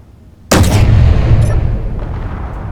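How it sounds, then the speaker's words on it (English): A custom-built turret in Space Engineers lets off a barrage at once: a sudden loud blast after a quiet lead-in, followed by a rolling, dense rumble of overlapping shots that slowly tapers. "I'm going to shoot a whole barrage at once."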